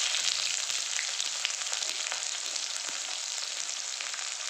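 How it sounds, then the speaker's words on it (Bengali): Onions sizzle and fry in a little hot oil in a wok, seasoned with nigella seeds and asafoetida, giving a steady, dense crackling hiss that holds evenly throughout. "মধ্যে আমি পেঁয়াজ ছেড়ে দেবো।"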